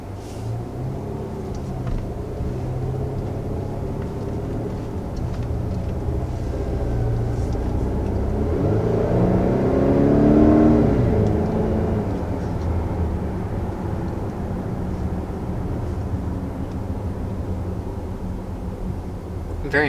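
A 2020 Volvo XC90's four-cylinder engine drones steadily while driving, a low rumble that swells slightly mid-clip, with muffled cabin talk underneath.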